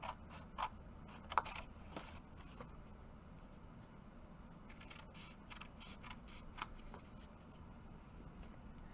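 Scissors snip through card stock while a birthday box card is being trimmed, a few close, crisp cuts and papery scratches against a low, steady room hum.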